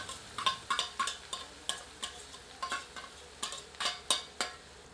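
Ground spices, roasted nigella seeds and crushed garlic are stirred into hot oil in a pan while making a Himachali fiddlehead fern pickle, giving a soft continuous sizzle broken by repeated scraping clicks of a ladle against the pan.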